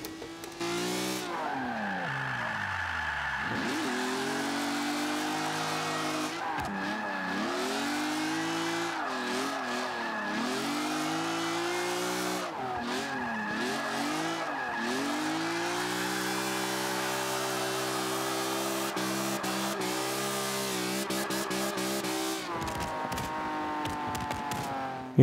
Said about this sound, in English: You hear the car just popping away. I think it's probably because of the race exhaust.